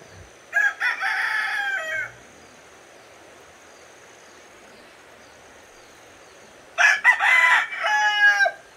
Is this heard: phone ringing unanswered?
no